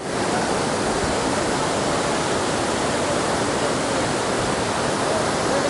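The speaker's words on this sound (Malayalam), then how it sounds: "ഒറ്റ സ്ട്രീമായി താഴേക്ക് പോകുന്നു എന്നിട്ട് അവിടെ വലിയൊരു വെള്ളച്ചാട്ടം തീർത്തുകൊണ്ട്" A loud, unbroken roar of falling water fills the whole stretch, steady and dense like a nearby waterfall dropping in a single stream, in the Attappadi area of Kerala.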